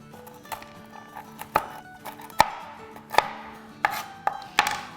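Nuts being chopped into small pieces with a knife on a board, a dozen or so sharp irregular thuds and clicks, close and distinct against a quiet musical background.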